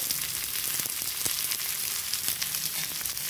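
Onion frying with garlic and ginger in a hot pan, giving a dense, continuous crackling sizzle with faint stirring bumps throughout, close and fairly loud.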